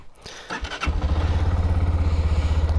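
An X-Pro KPM 200 motorcycle cranks briefly with a starter whine, then catches and settles into a steady, fairly quiet idle, thumping rhythmically and close by.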